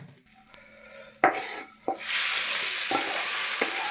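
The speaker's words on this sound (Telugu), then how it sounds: "కొంచెం జీడిపప్పు పలుకులండి చక్కగా వేయించేసుకుందాము వీటిని" Cashew pieces and asafoetida fried in hot oil for bisibelebath tempering, with a few stirring clanks against the pan, then a loud, steady sizzle that swells and holds close up, broken by occasional utensil knocks.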